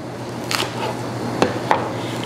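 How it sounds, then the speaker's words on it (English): Knife quickly chopping red fire lettuce on a board, a few sharp distinct cuts spaced irregularly, close and fairly loud with no talk. "And now I'm just gonna give it just a little quick chop."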